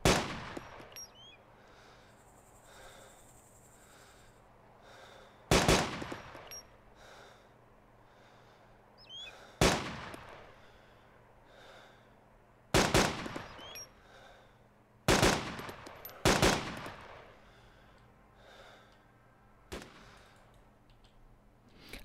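Gunshots in the DayZ Epoch video game ring out as about seven loud, isolated cracks spaced several seconds apart over a low steady background hum, with no talk.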